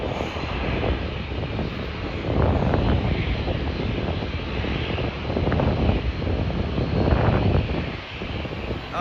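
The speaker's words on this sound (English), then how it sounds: "The Boeing is not that noisy like the small dash behind." Boeing airliner engines roar at Ponta Delgada airport, a loud continuous rumble that swells and eases twice, with wind buffeting the microphone and no talk.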